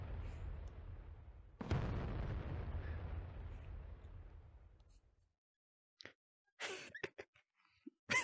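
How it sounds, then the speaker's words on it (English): A loud explosion in the VR game VRChat booms and rumbles, then decays over several seconds into near silence, followed by a few faint scattered clicks and short noises. "I just got exploded across the map."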